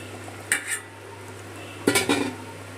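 Fried tilapia pieces go into a pot of potato and papaya curry with two brief clusters of metal utensil clinks against the pan in an otherwise quiet kitchen.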